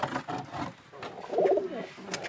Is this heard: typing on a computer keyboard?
no